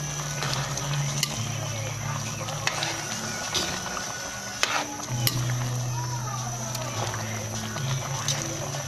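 Clams and string beans stirred in a pan during a sauté, scraping and clinking in bursts over a steady low hum, with occasional sharp utensil taps against the pan.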